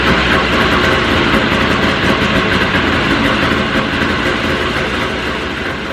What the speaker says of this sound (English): We've successfully gone through the top 3 components of our engine, and we have it running like a charm.